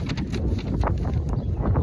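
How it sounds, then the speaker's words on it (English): Gusty wind buffeting the microphone, a low rumbling roar with uneven bursts and no voices. "Probably a little windy right now. I feel it's real gusty."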